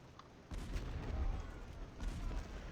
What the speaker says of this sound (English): So the artillery can just shoot from wherever, basically.